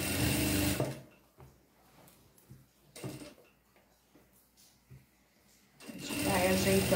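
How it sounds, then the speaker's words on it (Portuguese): A sewing machine stitches a seam around a pants waistband, whirring loudly in two bursts at the start and end with quieter handling and fabric sounds in between. "Aí é só mesmo passar uma costura na volta toda."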